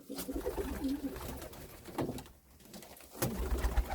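Pigeons in a loft coo softly and repeatedly in low, rounded calls, nearby and fairly quiet, with a few light rustles between the calls.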